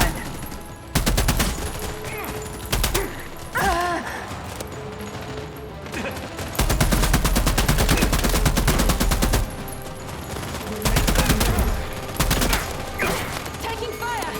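Gunfire in the sci-fi shooter The Expanse: Osiris Reborn, loud sustained automatic bursts and rapid shots in several long volleys with heavy impacts, close and dense, with brief shouted voices between the bursts.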